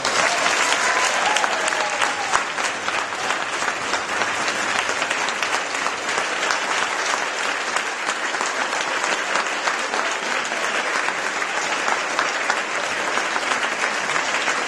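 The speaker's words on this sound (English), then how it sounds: "So I want you to give them a round of applause." An audience at a Women's Council chapter officers installation claps steadily for the newly installed officers, dense, even applause holding throughout with no break.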